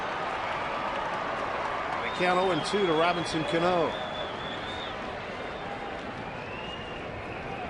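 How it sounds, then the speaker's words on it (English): Crowd noise swells at a baseball stadium during a Mariners game, a broad roar rising under steady play-by-play commentary and then settling back. "Crowd's starting to make some noise here"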